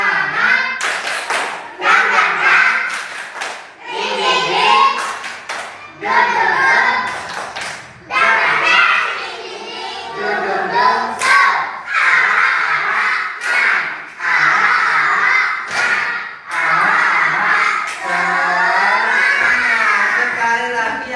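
A group standing in a room performs the 'tepuk semangat' rhythmic clapping routine, sharp synchronized clap patterns in bursts separated by short pauses, with voices chanting and calling along between the claps.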